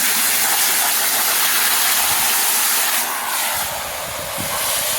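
A loud, steady hiss of water spraying close by onto a reusable aquarium filter bag, briefly easing and dipping in intensity near the end before picking up again.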